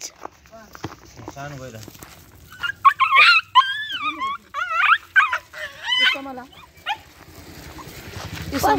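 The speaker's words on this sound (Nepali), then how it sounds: "अब हाम्रो कालो कुकुर चाहिँ के भयो यसको हेर्दै" A black dog whines, yips and whimpers in rising, pleading bursts, fairly close, with a person talking quietly at the start.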